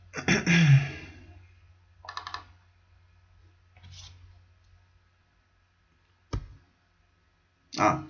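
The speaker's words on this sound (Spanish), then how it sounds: "vamos a apretar la combinación de teclas Shift, Control y Enter" A few sharp key presses on a computer keyboard sound nearby in a quiet room, scattered single clicks and short clusters with long silent gaps between them.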